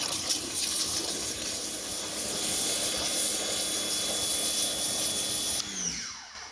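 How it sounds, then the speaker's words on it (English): Water rushes and hisses steadily into a half-full 5-gallon bucket holding a capful of soap, foaming it up for washing a ceramic-coated motorcycle, before cutting off near the end. "We're gonna foam up the bucket now."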